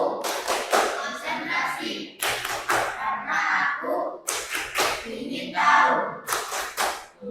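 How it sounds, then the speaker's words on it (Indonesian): A class of children does a rhythmic concentration clap in an Indonesian classroom, sharp unison hand claps in bursts of quick beats with short pauses, mixed with chanting voices of the pupils and teacher. "Kita tepuk konsentrasi dulu ya."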